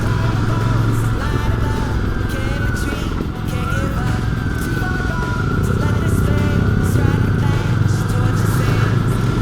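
Royal Enfield Bear 650 motorcycle being ridden, a steady loud engine drone with wind rush throughout and a brief dip in the middle, heard from the rider's position.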